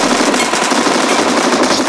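Rapid automatic gunfire in the mobile shooter PUBG Metro Royale, a loud dense burst of shots packed together with no gaps, close and unbroken, with no speech over it.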